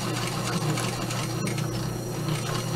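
A sewing machine stitches leather along a seam while installing a zipper, running as a steady, close mechanical whir with no pauses.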